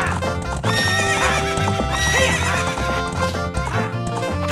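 Horse whinnies and clip-clopping hooves in Zelda: Ocarina of Time, with loud neighing over rhythmic galloping hoofbeats and a busy musical game soundtrack throughout.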